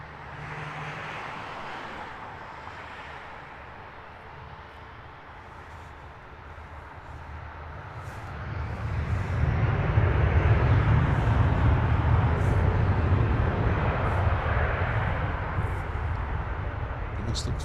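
A domestic shuttle flight to Newcastle taking off at Heathrow Airport, a broad jet roar that swells from a distant rumble to a loud, sustained low-heavy blast, with faint voices in the background.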